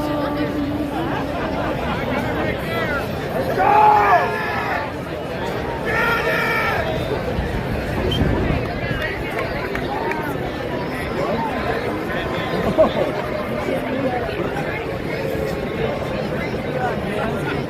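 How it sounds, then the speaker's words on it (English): A large crowd at the Seattle Seahawks Super Bowl victory parade near Fourth and Spring keeps up a continuous babble of chatter and shouts, with nearby voices and occasional louder cries rising above the din. "Look at the crowd."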